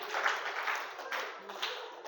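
Classroom students clapping, a short burst of faint, thin applause from a small group, recorded at low level.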